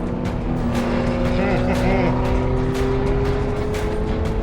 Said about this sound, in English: Pretty fun to hear that supercharger howl.